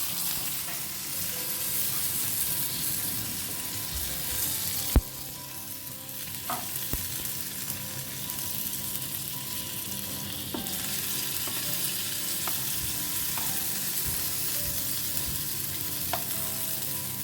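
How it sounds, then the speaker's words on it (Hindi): Stuffed squid, filled with prawns in Goan style, fries in hot oil in a pan over a medium flame with a steady, close sizzle and occasional sharp ticks and pops, and no talk. "तो दूसरे साइड को भी फ्राई कर लेना है"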